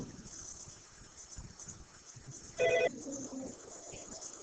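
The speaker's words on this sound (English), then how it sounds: "my phone is ringing" A phone ringing, heard as one brief electronic ring burst of under half a second that stands out loudly against faint room and wind noise.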